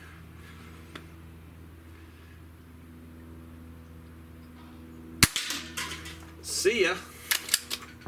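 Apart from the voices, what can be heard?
Hatsan Model 25 SuperTact Vortex air rifle shooting targets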